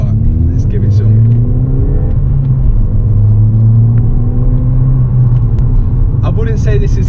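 A modified Ford Fiesta ST180 accelerates hard, heard from inside as a loud, deep engine drone rising in pitch through a gear, with road rumble throughout.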